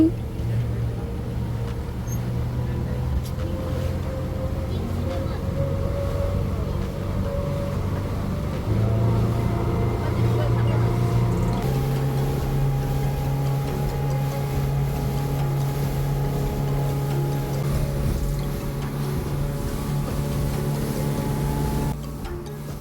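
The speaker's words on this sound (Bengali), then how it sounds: "আমি কিন্তু এই স্পিডবোট রাইডসগুলো অনেক এনজয় করি" A speedboat crosses the open sea in the Maldives on the way to Maafushi island, its engine giving a loud, steady drone that runs unbroken for the whole ride, with faint voices beneath it.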